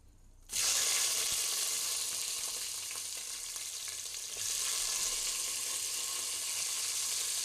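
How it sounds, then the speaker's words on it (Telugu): Onions dropped into hot oil with whole garam masala burst into a loud, close sizzle after a brief quiet start, frying steadily with stirring and swelling again near the end. "ఆనియన్స్ అయితే గోల్డెన్ బ్రౌన్ కలర్ వచ్చే వరకు వేయించుకుందాం."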